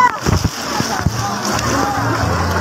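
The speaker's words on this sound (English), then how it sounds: "two women go down a water slide at a resort in the Philippines" Splashing as two women ride down a resort water slide in the Philippines, a few sharp bursts of water at the start followed by steady sloshing and churning, with voices in the background.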